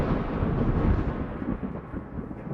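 Thunder rumbles after a lightning bolt, a loud, dense, low rolling roar that holds and then slowly fades, with no voices.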